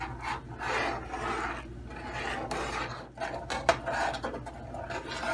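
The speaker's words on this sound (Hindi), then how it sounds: "और इसको हम चला रहे हैं मुसलसल।" A rabri kheer mixture is stirred steadily in a cooking pot over medium-low heat, producing continuous close scraping and rubbing with a few sharper knocks against the pot.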